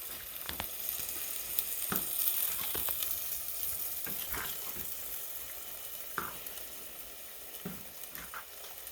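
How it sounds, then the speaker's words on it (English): Chicken and dumplings are stirred in a pot, a faint, steady simmering hiss broken by scattered soft scrapes and knocks of the spoon, with no voices. "Where I'm stirring these a little bit"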